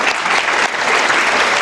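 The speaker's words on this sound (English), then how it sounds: "Let's give them a round of applause, please." Steady applause from a banquet audience at a Lions Club citizen of the year dinner, a dense continuous clapping that fills the whole short moment.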